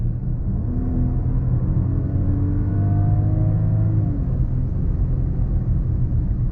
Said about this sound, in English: let you just enjoy the exhaust sound. But I can tell you right now, if I floor it